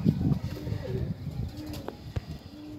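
A pigeon coos a few soft, low, rounded notes close by, fairly quiet, with some small rustling and clicks around it.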